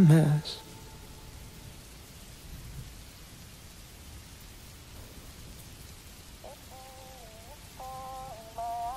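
Steady rain hisses evenly under a low rumble of thunder, layered beneath a song; faint melodic tones surface near the end.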